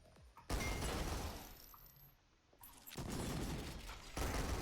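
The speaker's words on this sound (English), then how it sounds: "Dealing some really insane damage with these pistols." Pistol gunfire from a pair of akimbo pistols in the shooter game SYNTHETIK 2, with dense, rapid shots and crashing impacts forming continuous loud bursts, a brief lull near the middle, then renewed heavy firing.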